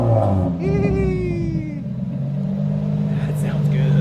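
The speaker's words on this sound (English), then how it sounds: "give it a little rev" A Nissan 350Z engine revs up once with a rising, then falling whine, close and loud over a steady idle rumble, with people talking nearby.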